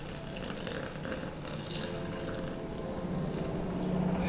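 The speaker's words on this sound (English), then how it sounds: "when you pour it in, you're gonna want to circle it around, make sure that all of the beans get submerged" Water pours steadily over ground coffee beans in a container while making cold brew coffee, a continuous close splashing and trickling that grows slightly fuller toward the end, with no talk.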